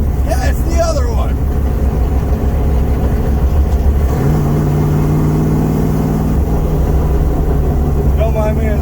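A 640hp 1970 Charger with a 4-speed, driving past a police station: a loud, close engine rumble drones steadily and shifts in pitch midway, while someone talks over it.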